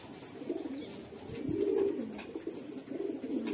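Newly released pet pigeons coo softly over a low, constant background hum, giving a rolling, throaty call that rises and falls through the middle of the moment.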